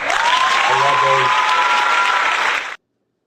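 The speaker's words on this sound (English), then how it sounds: "Let me give you a round of applause on the way out." A crowd gives a loud, close round of applause on a live NFL Draft show, dense clapping that stays steady and then stops abruptly near the end.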